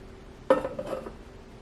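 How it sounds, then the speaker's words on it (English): Two small metal pans set down onto the griddle plate of a Nostalgia MyMini noodle cooker, a sharp clink followed by a softer scrape and second knock, close and brief in a quiet room. "Let's see if my mini pans will fit."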